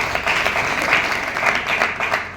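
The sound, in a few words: audience applauding a guest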